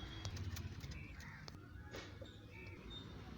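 Pigeons in a loft make a few soft coos against a quiet, hollow indoor room, with faint scuffs and wing or foot noises in between, and a voice talks at times.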